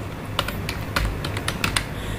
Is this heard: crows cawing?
no